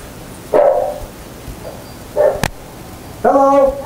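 Dogs at a door bark in three short bursts, loud and close, separated by quiet pauses with a sharp knock-like thump in between.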